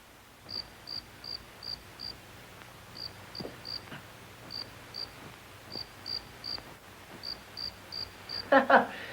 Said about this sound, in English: That's not in your head, sir. That's a cricket.